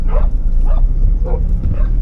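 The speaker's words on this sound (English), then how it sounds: "What's going on here? Pack of dogs, mate." A pack of dogs in a Thai village barks in repeated yelping bursts, loud and close over a heavy low rumble of background noise.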